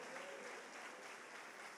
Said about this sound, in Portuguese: aplauda com alegria ao Senhor